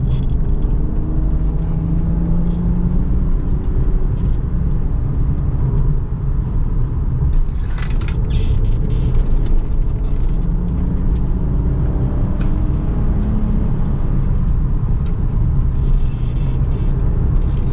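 A tuned BMW E36 323i with a modified ECU drives a winding mountain road, its engine a continuous low rumble with road noise, steady and close throughout.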